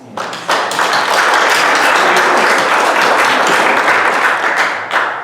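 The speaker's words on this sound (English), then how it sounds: "So I think we all owe him a round of applause." A room full of people at an annual meeting applauds steadily for about five seconds, with dense, even clapping and no talking over it.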